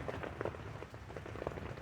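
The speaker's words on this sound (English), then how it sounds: "now just a little wuss-ass rain is all we really got" Light rain patters steadily on a surface, a soft and faint continuous drizzle of scattered drops with no voices.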